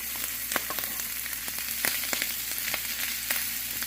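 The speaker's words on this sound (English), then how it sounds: "After about 5 minutes of stirring and sauteing, here's your fried rice." Scrambled eggs and rice stir-frying in garlic butter for fried rice, a constant close sizzle broken by frequent quick ticks and scrapes of a utensil stirring the pan.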